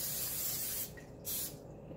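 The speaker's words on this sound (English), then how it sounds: "I'm gonna spray it with some cooking spray so the cake doesn't stick." Cooking spray hisses from an aerosol can into a 13x9 baking pan in two steady bursts, the first longer and the second shorter, close and fairly loud.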